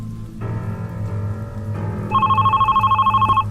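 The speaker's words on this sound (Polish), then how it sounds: "Gdzie telefon dzwoni?" In an indie horror video game, a telephone rings with a pulsing electronic trill that cuts in partway through, over a low droning background and steady rain-like ambience, with no voices.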